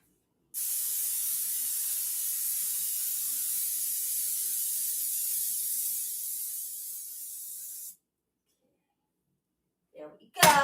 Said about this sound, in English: Now, I'm going to spray this pan